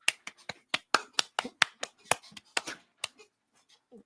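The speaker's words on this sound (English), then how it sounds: "I guess I have to clap for you guys now." A run of sharp, rapid hand claps, about fifteen in quick succession, close and fairly crisp, slowing and tapering off near the end.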